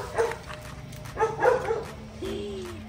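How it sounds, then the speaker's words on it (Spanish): Small dogs bark and yip in the countryside of El Salvador, several short sharp bursts at moderate distance with a whimpering whine near the end, no talk over them. "Hay perritos aquí."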